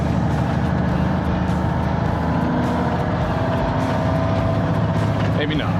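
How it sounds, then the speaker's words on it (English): A 1985 cabover truck holds fourth gear on the road, its diesel engine droning loud and close in a steady low rumble with no shift or pause, and a voice now and then over the cab noise. "we'll just ride fourth all the way out of here"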